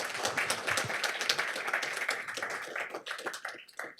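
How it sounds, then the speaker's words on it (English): A conference audience at a startup demo day applauds an incoming presenter, a dense wash of many hands clapping continuously for about four seconds, fairly close and steady before thinning slightly at the end. "An applause, please."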